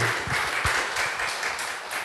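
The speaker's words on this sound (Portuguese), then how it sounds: "Vamos aplaudir Jesus bem forte, gente." A church congregation at a worship service claps loudly for Jesus; dense, continuous applause with a few heavier low thumps, close and sustained without speech.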